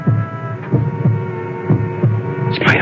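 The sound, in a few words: heartbeat sound effect in radio drama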